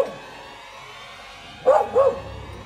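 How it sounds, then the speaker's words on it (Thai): A dog barks twice in quick succession at a tree at a night campsite, the barks sharp and moderately distant over a low, steady background hum. "มันไปเห่าต้นไม้ต้นนั้นอ่ะ"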